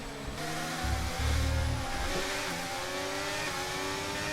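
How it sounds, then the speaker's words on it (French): Charles Leclerc's Ferrari Formula 1 car in the F1 23 racing game roars past with a loud, sustained high-revving engine whine that climbs in pitch, with no talk over it. "Et Charles Leclerc qui est passé. La Ferrari de Charles Leclerc."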